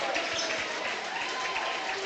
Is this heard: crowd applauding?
yes